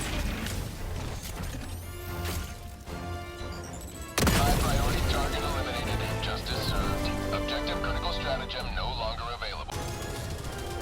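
Weapon fire from the Control Group Warbond in Helldivers 2, loud mechanical shots and crashing impacts over continuous battle noise, with a sharp jump in intensity partway through and a voice talking over it.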